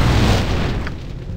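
In the Baldur's Gate Enhanced Edition role-playing game, a loud, deep explosion booms, then rumbles and fades over about a second.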